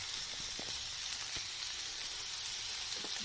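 Capsicum and onions sizzling in butter in a pan, a steady close frying hiss with a few soft stirring clicks throughout, no voices.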